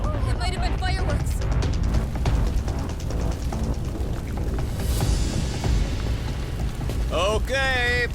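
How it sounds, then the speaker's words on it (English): Ship explosion in the video game Lost Judgment, a loud sustained rumbling roar with crackling debris, followed near the end by a brief burst of excited voices. "This ship just exploded!"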